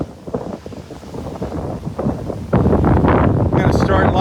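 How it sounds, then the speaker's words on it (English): Wind gusts across the open beach at Delnor-Wiggins on a Sunday morning, buffeting the microphone with a steady low roar that swells louder in its second half. "get out of the wind here for a minute"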